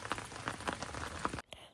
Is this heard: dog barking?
no